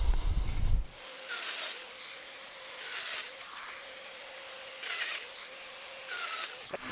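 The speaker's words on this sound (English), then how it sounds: "So I'm going to cut those right now by putting it up against that little block and using my domino tool." A Festool Domino joiner cuts mortises in wood for a storage bench, several repeated whirring plunge cuts each lasting about a second over a steady motor hum, near and fairly loud after a short thump.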